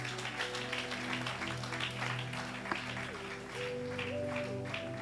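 A congregation applauds during a fasting and prayer church service, steady moderate clapping under sustained keyboard chords with no talk.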